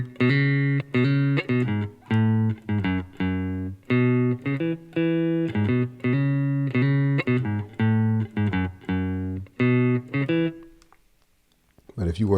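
Guitar picks the bass line of the Staple Singers' Let's Do It Again, steady repeated low notes in a bouncing rhythm with short gaps, played alone and close, before the sound fades near the end.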